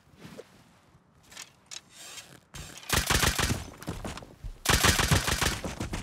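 Rapid bursts of nail gun fire in the survival game Rust, loud and close: clustered sharp impacts in dense volleys, with a quieter stretch of scuffling and scraping before the heavy firing starts, and no voices.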